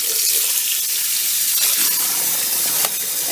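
Cold water runs steadily from a tap as blueberry-dyed fabric is rinsed in it, a loud, constant splashing hiss with no talk.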